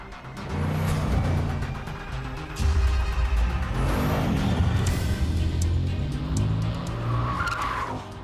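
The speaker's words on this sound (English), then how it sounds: "the team takes the prototype to the famed Nardo circuit in Italy" A Bugatti Chiron prototype drives on the Nardo banked circuit in Italy, a loud sustained engine drone with shifting pitch and tire noise running throughout, plus brief whooshing swells from passing motion.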